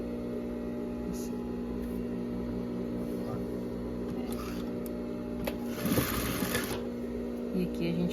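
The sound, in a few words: sewing machine sewing a baby romper seam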